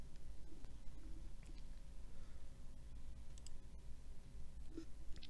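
A computer mouse clicks a few times on a quiet desk: faint, sparse, sharp ticks spread over a low background hum, with no speech.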